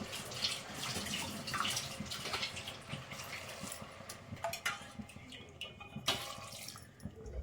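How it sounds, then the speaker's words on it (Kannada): Water pours and splashes into a pot of lentils for bisi bele bath in uneven bursts, fairly faint, with no talking. "ಈಗ ಇದೇ ಕಪ್ಪಲ್ಲಿ ನಾನು ಒಂದು ಸೆವೆನ್ ಕಪ್ಸು ನೀರು ಹಾಕೋಬೇಕು"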